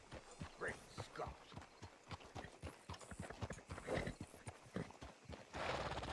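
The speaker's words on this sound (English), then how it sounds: "Hitch your horse up here." Horse hooves clip-clop in steady rhythm across a Red Dead Redemption 2 game setting, moderately close and continuous, with an occasional whinny and a voice talking over the footfalls.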